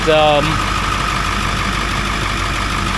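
A Ford 7.3L Powerstroke diesel truck engine idles with a steady, continuous rumble close by; a brief voice or tonal sound rises at the very start before the idle carries on alone.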